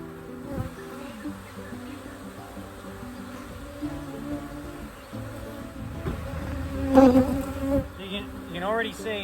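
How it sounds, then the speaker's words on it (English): Dense buzzing of disturbed honeybees swarming around an opened beehive during queen-rearing work, a steady close drone that swells toward the end, with brief bursts of other handling noise. "You can already see there's field bees or any disturbed bees that we've just done there, trying to get back into the hive."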